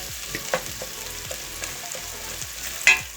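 Beans sautéing in a pan for a Turkish dried bean stew, with a steady close sizzle of frying and a few sharp scrapes and clinks of stirring, one louder knock near the end.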